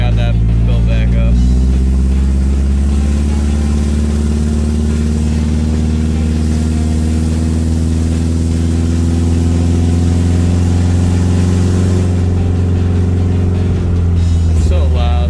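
A 2001 Subaru Outback enduro race car drives down the road, its engine a loud, steady, close drone with a slight rise in pitch and a voice speaking over it.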